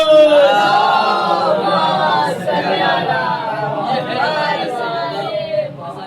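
A crowd at a Shia majlis gathering loudly chants salawat together in unison, their mass of voices rising and falling in a rhythmic collective recitation that fills the hall.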